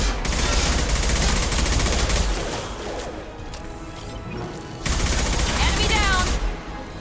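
Shotgun blasts and combat noise in Mass Effect: Legendary Edition, loud heavy bursts with crashes and mechanical clatter, continuous through most of the stretch with a brief dip in the middle.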